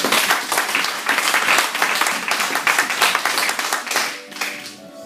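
A church congregation applauding and cheering: dense, loud clapping from many hands, steady for several seconds, then tapering off near the end.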